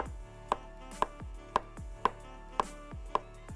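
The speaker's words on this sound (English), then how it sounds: "So we're going to slice this up for caramelized onions." A knife slicing onions thinly on a cutting board for caramelized onions, six crisp evenly spaced chops about half a second apart, close and clear with no talking.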